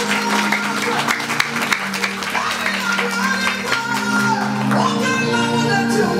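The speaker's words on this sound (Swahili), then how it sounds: "Pigeni Bwana makofi." A church congregation claps loudly and continuously through a prayer service, the steady applause blended with tonal music and some voices.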